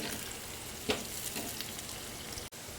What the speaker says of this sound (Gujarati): ડુંગળીને આપણે સરસ બ્રાઉન કલર થાય ત્યાં સુધી આપણે એને ફ્રાય કરવાની છે.